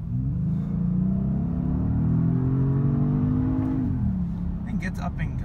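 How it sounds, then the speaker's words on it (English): A Genesis G80 Sport with a 3.3-liter twin-turbo V6 and traction control off accelerates hard at full throttle, its steady engine drone rising in pitch for several seconds, then dropping briefly as it shifts, heard from inside the cabin. "alright, and I'm gonna floor it"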